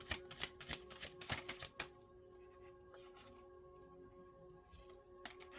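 Tarot cards being shuffled and pulled by hand: a close run of quick papery riffles and slaps for about two seconds, then a quieter stretch with an occasional soft card tap over a faint steady tone.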